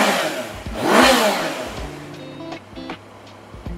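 A Yamaha motorcycle with an aftermarket exhaust revs up loudly and close, swelling to a peak then falling back to a burbling idle with a few short blips.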